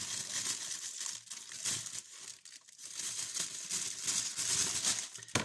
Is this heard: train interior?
no